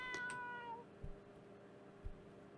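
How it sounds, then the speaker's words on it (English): Cat meow sound effect from the video game The Witch's House: one short, clear, high meow up front, followed by quiet background with a couple of soft low thumps. "And speaking of The Witch's House, there's a cat sound."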